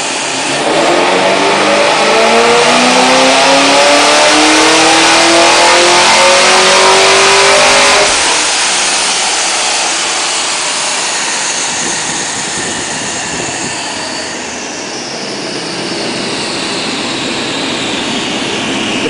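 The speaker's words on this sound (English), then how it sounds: "we're ready to make our pull in the dyno" A 2010 Camaro SS with a supercharged L99 V8 on a chassis dyno revs hard through a rising pull for about eight seconds, then drops off into a lower, fading exhaust rumble.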